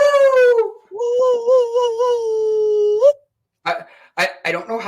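A man imitates a wolf, voicing one long, loud howl that glides and wavers before breaking off, followed after a brief silence by short vocal bursts.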